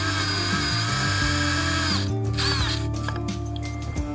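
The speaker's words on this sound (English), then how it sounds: "Go just deep enough to countersink the head" A power drill whirs in short bursts while countersinking a screw head, starting and stopping with shifting pitch under light pressure, close and fairly loud on a homemade polycarbonate plastic bender project.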